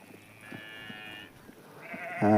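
A large sheep on a farm gives a loud, close bleat at the very end, after a quieter stretch of faint background sounds.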